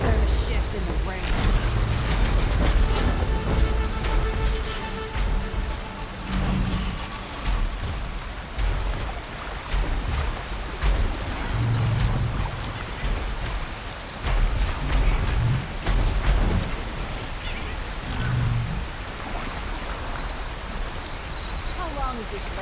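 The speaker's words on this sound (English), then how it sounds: "What would I do to deserve a shift in the rain?" In the video game Horizon Forbidden West, heavy rain pours steadily while low thunder rumbles roll in at intervals, with brief voices now and then.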